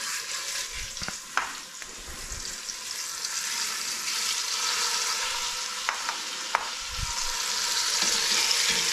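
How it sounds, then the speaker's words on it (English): Beef for stew searing in a hot pan, a dense, steady sizzle heard up close with a few sharp clicks and light clatter, no voices. "we are sort of ready to start searing here"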